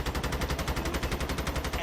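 Rapid automatic gunfire fired at a helicopter in the mobile shooter Call of Duty Mobile, a steady fast rattle of evenly spaced shots filling the whole moment at close range.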